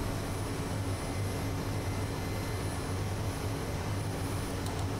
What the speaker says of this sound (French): je vais retrimer l'hélicoptère pour décoller.